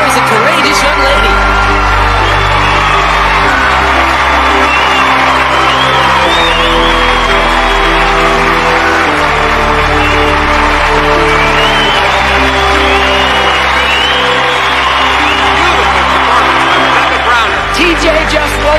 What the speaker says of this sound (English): Oh, the crowd loves it!